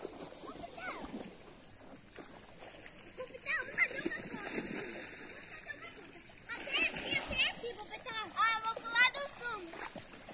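Water splashes and sloshes as people bathe in a lagoon beside a wooded area, with intermittent splashing under frequent talk, including a voice.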